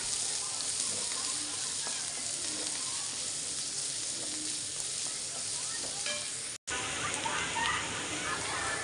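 Onions sauté in a pan for a vegetable stew, giving a steady, close sizzle with light stirring scrapes. The sound continues evenly, broken only by a split-second dropout near the end.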